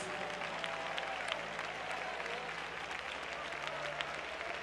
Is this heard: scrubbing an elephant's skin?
no